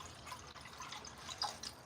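Water trickles and drips from a kettle onto coffee grounds sitting on a kitchen scale, a faint, close, steady pour with a few brighter splashes near the end.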